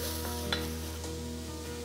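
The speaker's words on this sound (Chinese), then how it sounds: "我要把肉中的油给煸出来，让它进入菜的其他原料里" Meat stir-fried in a wok to render its fat for mapo tofu, giving a steady close sizzle with a few light scraping stirs of the ladle, no talking.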